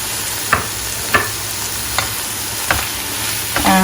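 Spices frying in oil with tomato juice for a Bengali prawn curry: a steady sizzle with several sharp stirring scrapes at regular intervals, close by and without talk.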